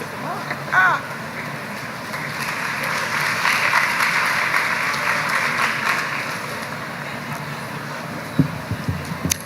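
New undergraduate students clap during a general orientation session, a broad crowd patter that swells and holds through the middle, with a few nearer sharp claps and muffled voices underneath, and a brief thump near the end.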